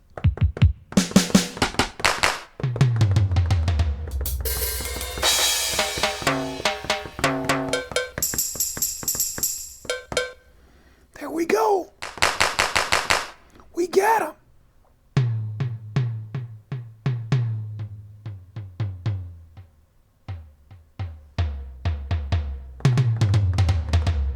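Punchy electronic drum patterns triggered from a Synido TempoPad 16 pad controller play back in bursts, kick and snare hits with cymbal splashes, pausing briefly between fills; no talking.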